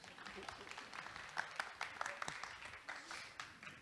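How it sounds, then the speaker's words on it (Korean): An audience at a startup founders' session applauds. The clapping is a brief, moderately distant spatter of claps with crowd murmur, and no speech over it. "박수."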